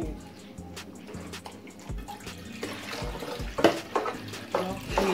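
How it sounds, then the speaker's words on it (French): Water poured into a cooking pot while making ndolé, a steady close splashing and trickling that grows louder toward the end, with faint stirring clinks. "J'augmente encore un peu d'eau."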